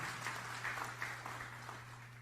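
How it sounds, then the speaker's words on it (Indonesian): Soft, continuous clapping from a church congregation, fairly faint and diffuse with a low steady hum underneath and no voices standing out. "Berikan tepuk tangan yang meriah buat Tuhan"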